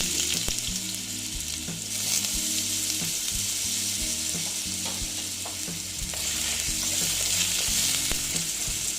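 Potatoes for betho saag sizzle in hot oil, a dense crackling fry with frequent clinks and scrapes of a utensil stirring them in the pan, continuous and close.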